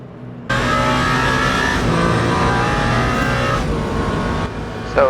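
Ferrari race cars in the pits during a Le Mans 24 Hours race in Le Mans Ultimate, a steady loud engine drone with high whine filling the scene, a brief dip near the end.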